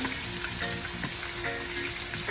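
Steady, dense sizzling of kingfish frying in a hot pan, close and continuous, with faint crackles throughout.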